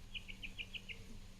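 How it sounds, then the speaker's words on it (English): An outdoor bird gives six quick, evenly spaced high chirps in a row over faint background hum, then falls quiet. "There's a bird chirping behind me."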